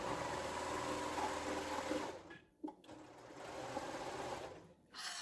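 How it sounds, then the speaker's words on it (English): A serger sewing machine runs at speed stitching a test thread chain, a fast, steady whirring hum that stops abruptly, pauses briefly, then starts again, close and loud with no voices. "So I used my serger to stitch up the sides"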